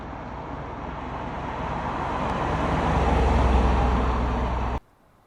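A 1989 Toyota Supra Turbo with a 5-speed manual rolls past, a broad engine and road rumble swelling as it nears and then cutting off abruptly, with no voices over it.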